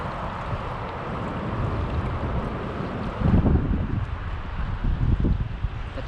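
Wind gusting across a river during fly fishing, a steady broadband rush that swells louder midway, with buffeting on the microphone and no talk.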